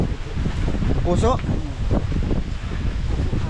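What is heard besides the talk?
strong wind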